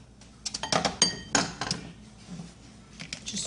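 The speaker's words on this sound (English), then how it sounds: "Switch over to my spatula and just like fold in the flour gently." A spatula scrapes and clinks against a bowl while folding flour gently into brownie batter, giving a series of short, close scraping and tapping strokes at an irregular rhythm.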